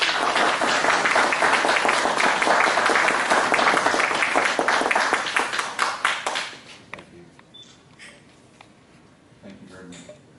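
An audience at a POW MIA event applauds loudly and steadily for about six seconds, then the clapping fades to scattered claps and faint background noise.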